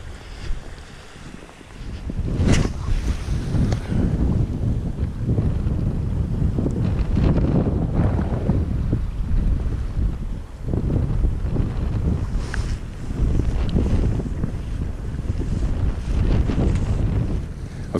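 Biting cold wind gusts steadily across a microphone beside the River Thurso during spring salmon fishing, a loud continuous roar with rising and falling buffets, near and unbroken, no voices.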